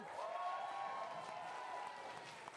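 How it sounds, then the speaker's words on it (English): Faint, distant applause from a comedy club audience cheering the bar staff, a soft continuous patter of clapping under a sustained tonal hum, fairly quiet throughout. "Can we all please have a massive round of applause for all of the bar staff?"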